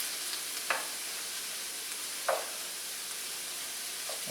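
Vegetables for paella sizzle in a hot pan, a steady, soft frying crackle with a few brief louder scrapes of stirring.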